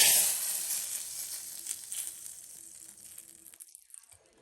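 A hot mustard-seed tempering is tipped into okra sambar, giving a loud hissing sizzle right at the start that gradually fades into a faint crackle, close by, with no speech.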